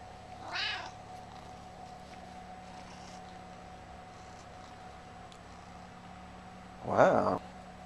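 Two meows from a chatty house cat, indoors, are separated by several seconds of quiet room hum: a soft, brief one first, then a louder, nearer one.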